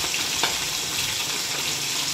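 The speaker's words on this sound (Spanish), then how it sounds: "Este es el secreto para yo freír pescado sin harina. Aceite bien caliente." Fish fried without flour in very hot oil, producing a continuous broadband hiss of sizzling that stays steady and fairly close throughout.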